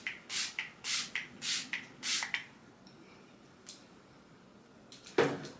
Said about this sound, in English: I do about like 5 to 6 sprays for my face.